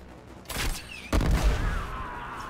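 Video game gunfire aimed at the player: two loud bursts of shots, a shorter one followed by a longer, heavier volley, with lingering echoing tails and a faint whistling tone between them.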